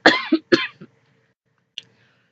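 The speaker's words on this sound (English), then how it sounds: "Starting to cough now." A few raspy coughs from a dry throat in quick succession, close up, followed by a brief pause and a single short throat sound.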